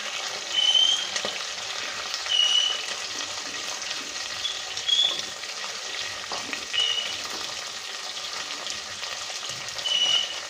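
Vegetables for a veg pulao frying in a pan, a steady hiss of sizzling with soft stirring swells every couple of seconds, close and moderate in level, no talking.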